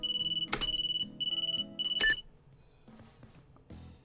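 A video game alarm clock's rapid electronic beeping pulses in bursts, cut off by a couple of sharp clattering hits, then quieter ambient sounds.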